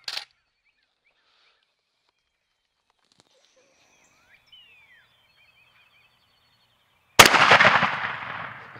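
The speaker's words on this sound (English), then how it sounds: "We usually start out shooting at 20 yards and back up in 10-yard increments until we find the effective range of our gun." Shotgun firing turkey shells at a pattern target outdoors: a sharp blast cut off at the very start, several seconds of near silence with faint birds, then one loud close boom with a long rumbling decay.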